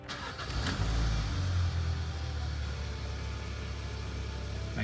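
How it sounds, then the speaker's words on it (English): A 2011-2015 Hyundai Sonata engine cranks and catches, then settles into a steady low idle hum close by, with no talk over it. "we're gonna go ahead and crank up car"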